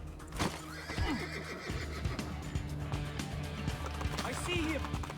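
In Assassin's Creed 2, a horse neighs and whinnies while its hooves clip-clop at a gallop, up close and moderately loud, mixed with game ambience and voices talking.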